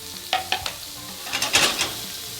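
Jerk pork sears over high heat in a roomy hot pan, a steady close sizzle broken by a few sharp scraping stirs and a louder burst near the end, with no talk.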